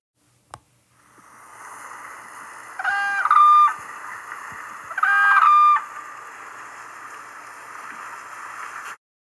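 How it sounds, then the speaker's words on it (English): Two loud, bugling whooping crane calls ring out a couple of seconds apart over a faint steady background hum. "This is what the call of the whooping crane sounds like."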